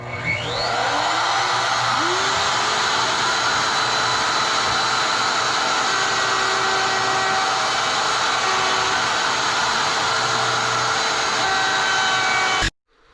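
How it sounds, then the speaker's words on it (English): A router on a router table spins up with a rising whine, then runs at a loud, steady high-pitched drone while rounding over wooden edges, cutting off abruptly at the end. "now I got the router table set up. I'm going to go ahead and round over all these edges"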